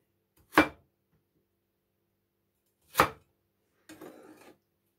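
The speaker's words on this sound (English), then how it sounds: "chopping the tomato" A tomato being chopped into four pieces on a board: two sharp, close knife chops about two seconds apart, then a brief softer scraping rustle.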